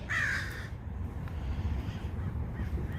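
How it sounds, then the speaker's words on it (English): A crow gives a loud, close caw at the start, followed by a fainter call later, over a steady low outdoor rumble by a front lawn. "these crows"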